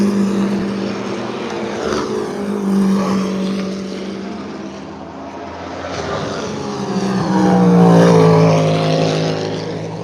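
A Ferrari race car roars past on the circuit at Le Mans at night, its engine note rising and falling as it sweeps by in a loud, sustained pass.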